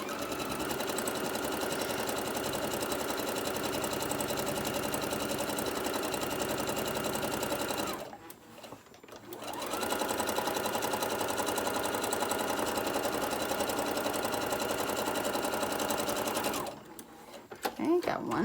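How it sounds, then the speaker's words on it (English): A sewing machine stitches the side seams of a tote bag in a steady, fast whirring run. It pauses briefly, then starts a second long run and stops again near the end. "So I'm just going to put this under my sewing machine. I'm going to sew a seam down each side."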